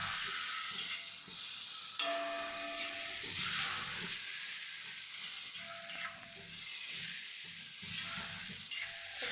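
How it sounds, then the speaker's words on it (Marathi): Spoon stirring jaggery into green chilli thecha frying in a pan, continuous close sizzle with scraping stirring strokes recurring every second or two, no talk. "पूर्ण असं मिक्स करून घेऊ।"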